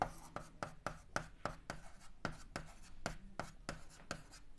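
A pen writes on paper in regular, rhythmic strokes, each a soft scratchy tap, close and quiet, repeating steadily with no talk.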